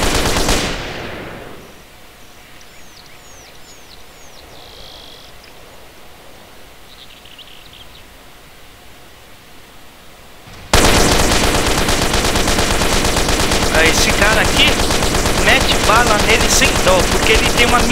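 Minigun fire in the video game GTA San Andreas, a loud continuous roar of rapid shots that bursts in abruptly after a quieter stretch and holds steady to the end.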